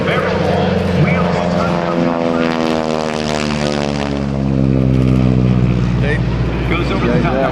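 A Texan propeller airplane performs a barrel roll at the Blue Angels homecoming airshow at Greene County Airport outside Dayton, Ohio. Its engine drones loudly and continuously, and the pitch bends down then climbs as it maneuvers.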